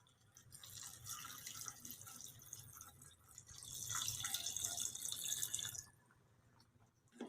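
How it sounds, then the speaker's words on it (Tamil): Water poured into a pot of mutton kulambu, Bangalore style, a soft continuous splashing pour that swells in the middle and then stops, faint and close with no talk. "தேவையான அளவு தண்ணி சேர்த்துக்கலாம்."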